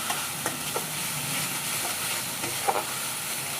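Onion mixed into a green chili, cumin and coriander paste, stirred and fried in a pan for a pabda fish curry, giving a steady sizzle with a few soft scraping strokes of the spoon and no talking.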